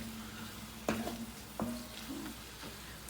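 Bulgur wheat and black beans cooking in a pot, a faint low simmering hiss with a couple of soft clunks from a utensil against the pot, quiet and close with no voices.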